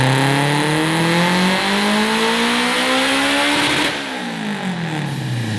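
A 700 hp Honda Civic Type R, being built into a race car, revs hard and loud up close: the engine climbs steadily in pitch for about four seconds, then drops sharply off the throttle and falls away as it settles.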